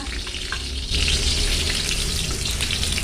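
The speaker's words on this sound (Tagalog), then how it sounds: "Magpainit tayo ng mantika. Kunain natin ang ating luya." Chopped ginger sizzles and fries in hot oil in a pan, a steady close crackle that swells louder after the first second and holds alone without talk.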